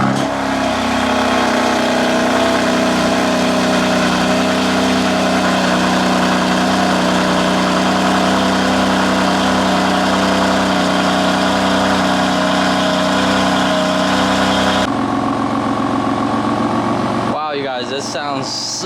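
A BMW F80 M3 fitted with resonated downpipes idles steadily once warmed up, a deep even drone held close and loud for about fifteen seconds before a brief shift in tone near the end.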